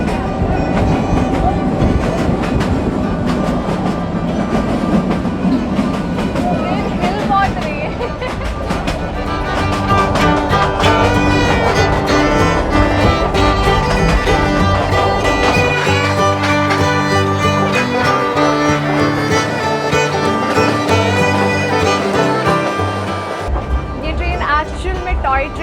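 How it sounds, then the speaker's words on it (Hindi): Narrow-gauge Kangra Valley toy train running on its rails through the monsoon-wet hills of Himachal Pradesh, a steady close rumble with rhythmic wheel clatter that goes on throughout, with voices faintly present beneath. "टॉय ट्रेन में बैठ चुके हैं और जब आप टॉय ट्रेन में बैठेंगे तो ये जब हम नॉर्मल ट्रेन में बैठते हैं उस तरीके की आवाज़ नहीं है।"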